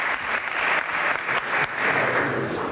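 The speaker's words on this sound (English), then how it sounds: "worthy of that applause" Steady applause from a crowd at a pool tournament, continuous clapping at moderate volume for a few seconds.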